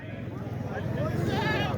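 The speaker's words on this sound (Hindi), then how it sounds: "ए जनाब आ गई चकवाल वाली बकरी।" A Chakwal breed goat bleats at a busy livestock market, a wavering, drawn-out call rising over a constant murmur of crowd chatter and market noise.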